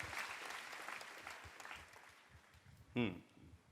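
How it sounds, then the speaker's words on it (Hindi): An audience at a Hindi spiritual discourse by a spiritual teacher claps in a steady wash of applause that fades, then a voice speaks loudly near the end. "ये मानवभाव के लिए ताली बजाइए, अभिनंदन कीजिए"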